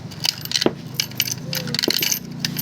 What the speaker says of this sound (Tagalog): hulugan ng barya. So, ang barya natin ay unahin natin ay 10 na old na piso.